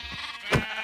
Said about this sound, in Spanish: Bueno, voy a coger ovejas.